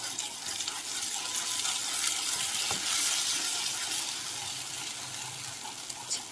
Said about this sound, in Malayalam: ഇങ്ങനെ ഇളക്കി മറിക്കുക